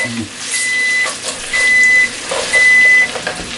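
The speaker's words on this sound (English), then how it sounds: "That's the minute timer going off." A kitchen minute timer goes off with three sustained electronic beeps in a steady repeating pattern, sounding over faint background kitchen noise.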